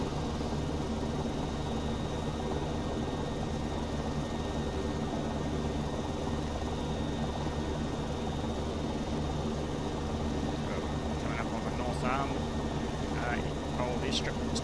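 A CowanSim AS350 helicopter in X-Plane 11 drones at a constant, even level from start to finish, with faint short sounds appearing near the end.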